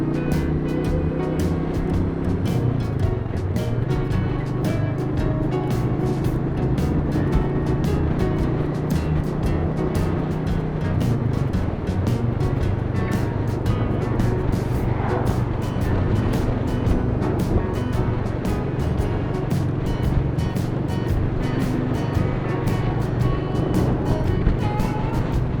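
A Royal Enfield Meteor motorcycle engine burbles steadily while riding, a continuous low throb with wind and road rumble mixed in throughout.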